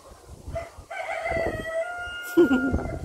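A rooster crows once in a long drawn-out call at moderate distance, with outdoor noise and rustling around it.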